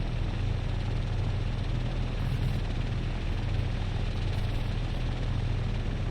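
A P-38J Lightning's engines idle at 1000 RPM in the Prepar3D flight simulator, giving a steady, unbroken drone with a faint whine on top and nothing else.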